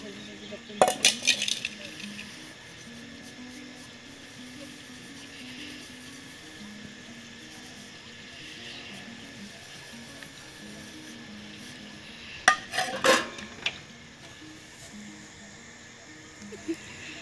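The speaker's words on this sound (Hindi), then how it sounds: "अभी तुम को कितना सारा बर्तन है अभी धोना है" Dishes, pots and utensils being washed, heard as two short bursts of metallic clinks and clatters against a steady background hum, with quieter stretches between.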